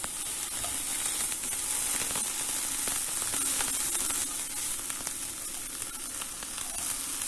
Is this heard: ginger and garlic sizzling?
yes